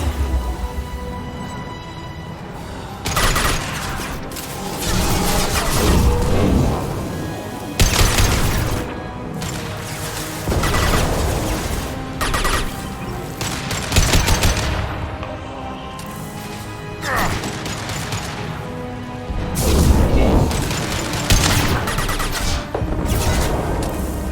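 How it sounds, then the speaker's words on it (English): Repeated loud bursts of gunfire in several volleys, with rapid shots clustered together and short pauses of lower background noise between them. "Taking fire."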